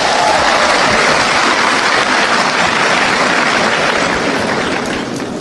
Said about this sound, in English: Please give yourself a resounding round of applause.